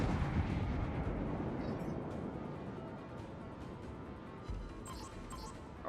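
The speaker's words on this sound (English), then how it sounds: "So I'm gonna keep launching armor piercing at him." Heavy naval guns of a Moskva cruiser firing armor-piercing shells in World of Warships, a deep rumbling boom that rolls and decays steadily, with a later thump, loud and continuous.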